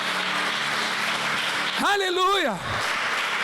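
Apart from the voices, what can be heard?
church congregation applauding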